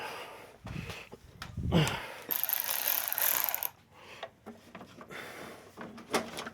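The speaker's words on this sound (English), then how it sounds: "now we just gotta pull our 2, 4, 10 mil bolts out of this thing" A ratchet removes 10 mm bolts from the cooling system of a Jeep TJ with a 4.0 engine. It gives close, bursty clicking runs between pauses, with a few metallic clanks.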